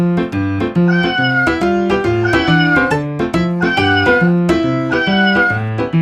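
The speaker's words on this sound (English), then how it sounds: "It's a cat." A cat meows several times in short, clear calls over bouncy background music with a steady beat.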